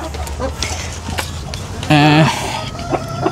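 Shamo hens give a short, loud clucking call up close, alongside rustling, with a person talking over it in the background.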